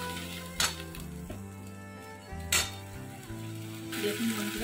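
Spices and coriander powder fry in a pan with a quiet sizzle, broken by two sharp scraping bursts and some stirring clatter near the end.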